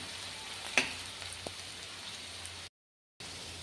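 Cabbage frying in a pan with ginger and cumin gives a steady, fine sizzle, broken by one sharp clatter near the start and a small knock, then a short dropout before the hiss returns.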